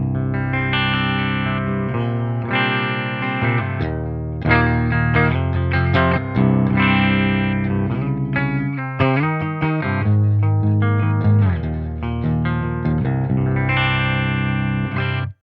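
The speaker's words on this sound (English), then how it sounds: "I'm on a clean tone that I've already dialed in that has a preamp coloration to it" Electric guitar on a clean preset from an all-pedal rig, colored by a preamp for an organic feel, playing a steady sustained chord-and-note passage alone with no talking, full and even in level throughout.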